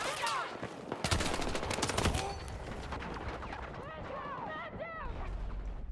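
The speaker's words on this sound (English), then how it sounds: "Spawned into actual gunfire." Gunfire in Battlefield 6, loud rapid automatic bursts and cracking shots mixed with booms and whizzing effects, continuous and close throughout.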